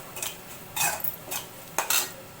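A spoon stirs salt into a pot on the stove with a few short scraping, clinking strokes against the metal, faint and close in an otherwise quiet kitchen.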